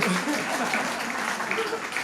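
An audience at a talk applauds, a dense, steady wash of clapping that fills the whole moment at moderate volume.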